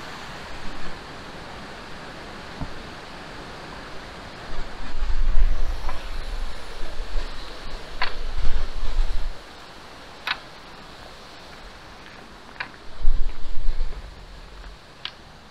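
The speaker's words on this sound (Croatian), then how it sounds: "Voda protječe, most." A mountain stream on Velebit flowing under a small bridge along a hiking trail makes a steady broadband rush, with a few louder low-end surges that come and go.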